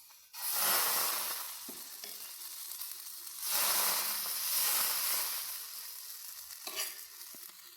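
Batter poured into a hot pan for a quick three-ingredient breakfast sizzles and crackles loudly, the frying hiss swelling in two strong waves with a few sharp pops, fairly close.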